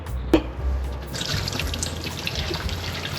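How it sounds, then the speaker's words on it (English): Meat juices from oven-smoked beef poured away into a sink, a steady close trickle of liquid after a brief knock, with no talk. "the liquid from the meat is all out, so we're gonna pour it"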